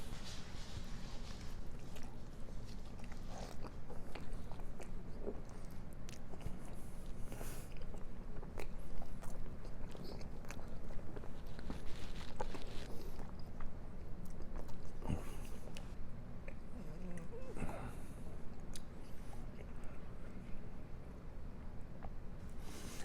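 Close chewing and biting of a too-big, still-hot mouthful of homemade ravioli lasagna, with wet squishy mastication sounds continuing steadily and no talking.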